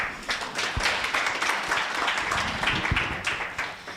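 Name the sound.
applause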